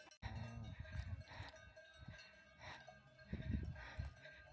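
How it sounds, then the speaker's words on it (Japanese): Cowbells clank on grazing cows near Lucerne, Switzerland, irregular and far off, mixed with faint farm-animal bleats and outdoor ambience, quiet and with no speech. "牛の鈴の音"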